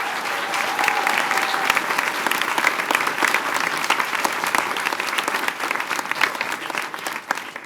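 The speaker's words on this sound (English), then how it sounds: "please give them a huge round of applause" An audience at an African middle school honor choir gala concert gives dense, sustained applause, loud and close, holding steady for several seconds without voices.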